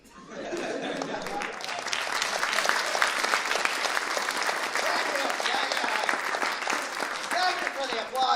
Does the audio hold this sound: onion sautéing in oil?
no